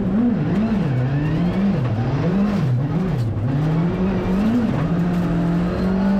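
A 4WD rally car drives a stage at Rally Whangarei, its engine note rising and falling steadily through gear changes and corners, loud and close with continuous road noise and no talk.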